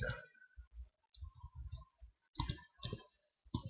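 Sharp computer mouse clicks come in quick, irregular bursts at close range, sounding alone and fairly quiet with short gaps between them.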